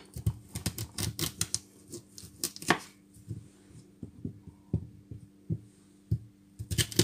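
A knife chops through a cassava root on a board, making a quick burst of crisp, close taps, then a few spaced single knocks and a brief flurry again at the end.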